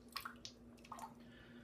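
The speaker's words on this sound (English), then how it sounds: "I'm just squeezing out all the water." Water squeezed out of a wet shaving brush, a few soft close drips and squishy splashes over a steady low hum, quiet and sparse.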